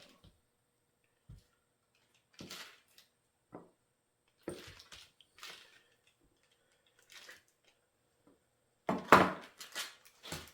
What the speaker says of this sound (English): for our cream cheese, we're just going to take about half of it. We're going to chunk it up.